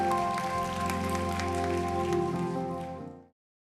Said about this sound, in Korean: 다시 한번 주님께 영광의 박수 올려드리겠습니다.